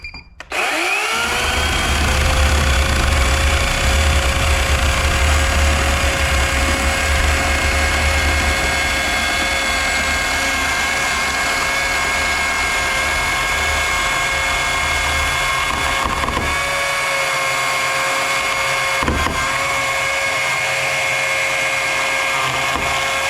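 A chainsaw runs steadily while cutting into rotten wood in a shop, a loud continuous high engine whine lasting over twenty seconds with slight load changes and brief dips near the end.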